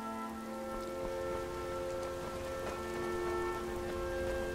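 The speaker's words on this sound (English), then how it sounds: "That thunder and that rain" Steady rain falling in the Skyrim video game, a dense even hiss with no voices, accompanied by sustained tonal game music throughout.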